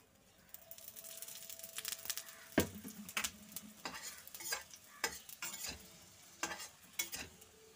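Aloo paratha shallow-fries in oil in a pan while being turned, giving a steady soft sizzle broken by frequent scrapes and clicks of a spatula against the pan, close up and without talk.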